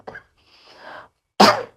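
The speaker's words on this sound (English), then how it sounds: "I want to tell you why I cough" A woman gives a few coughs: a short faint one, a soft drawn-out breathy stretch, then one loud, sharp cough near the end, with no talking.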